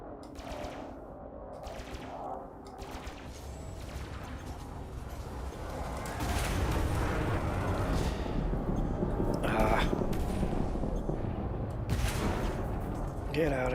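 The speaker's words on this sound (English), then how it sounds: "These cannons that are pushing the guy out the way." Ship cannons fire in rapid, rattling bursts during an Elite Dangerous space battle, loud and dense with heavy impacts, under excited talk from a player.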